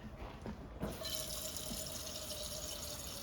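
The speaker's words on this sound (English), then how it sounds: "Just pour the water." Water poured into a saucepan while making churros at home, a steady running pour starting with a sharp onset and continuing close and fairly loud to the end, with no talk over it.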